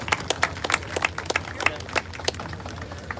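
A crowd at an outdoor tank show's finale applauds, with scattered claps popping over a noisy, somewhat distant background, fairly faint and uneven.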